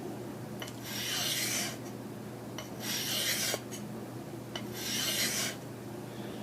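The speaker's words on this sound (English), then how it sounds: "You want your stone to match the angle of the shears." A sharpening stone rasps along a hedge shear blade in three slow, even strokes, each a close, dry scraping sweep separated by brief pauses in a quiet room.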